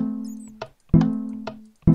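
Minecraft note block piano chord triggered by redstone and a lever, short bright plucked tones struck together, repeated three times in quick succession with sharp percussive onsets and quick decays, no voices.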